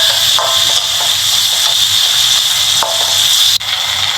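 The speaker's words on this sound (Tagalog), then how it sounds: "nagisa na tayo ng bawang, sibuyas, kamatis" Garlic, onion and tomato sauté in hot oil with a loud, continuous close sizzle and hiss, broken by a few quick stirring scrapes.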